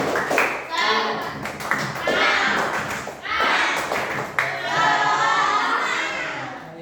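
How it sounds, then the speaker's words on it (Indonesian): A school class performs the rhythmic Indonesian tepuk semangat spirit clap, several bursts of clapping in a patterned beat mixed with children's chanting voices. "Tepuk semangat"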